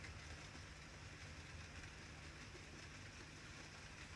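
Model trains run on a layout inside a shed, giving a faint, continuous mechanical hum and light rail clatter. No voices break the low, even running noise.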